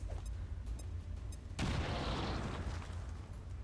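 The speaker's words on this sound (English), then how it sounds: "It's the grenade." A grenade explodes in the video game XCOM 2, a sudden loud blast with a rumbling, crackling tail that decays over a few seconds after quieter game ambience and faint clicks.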